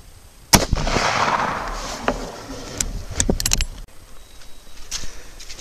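A Winchester 94 lever-action rifle in 30-30 fires a Lee 150 grain flat-nose cast bullet load toward a 100-yard target: one sharp, loud report with a long rolling tail, followed by faint clicks and rattles of handling.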